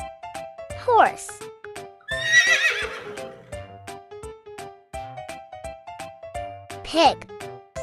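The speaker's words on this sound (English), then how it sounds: "Horse." A horse neighs in a loud, shrill whinny in the middle of a farm-animal lesson for kids, over light background music, with brief squeaky cartoon-like calls near the start and end.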